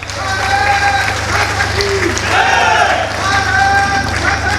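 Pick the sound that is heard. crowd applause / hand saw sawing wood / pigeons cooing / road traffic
crowd applause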